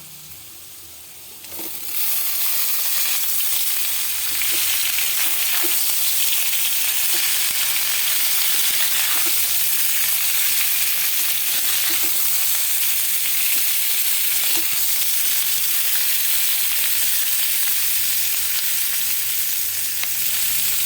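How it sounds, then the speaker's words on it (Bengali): Capsicum and half-boiled potato pieces hit a hot pan and burst into a loud, continuous sizzle that holds steady for about twenty seconds, with faint stirring ticks and no voices. "আলুর সাথে ক্যাপসিকামটাকে আমি একটু ভেজে নেব।"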